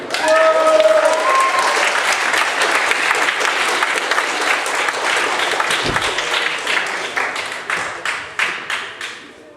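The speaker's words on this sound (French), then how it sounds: "On les applaudit." Loud crowd applause at a cosplay awards ceremony, dense clapping steady for most of the stretch, then thinning into a few scattered claps near the end.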